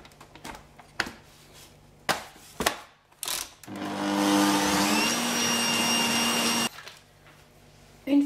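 An electric mixer whips meringue with sugar for a strawberry pavlova, a steady whirring drone lasting about three seconds between scattered clatters and knocks.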